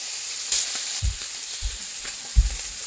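Chicken sizzles in a pan with onion and butter, a constant frying hiss broken by a few soft thumps and scrapes of stirring.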